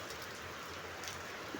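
A sudden rain shower with big drops and strong wind falls in a garden, a soft steady patter and hiss, fairly quiet, with no voices.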